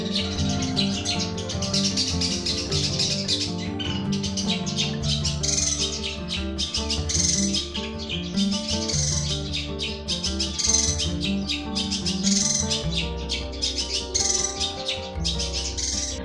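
A long-tailed shrike sings continuously at close range, pouring out a loud, dense run of varied chirps and rapid trills over a steady background hum.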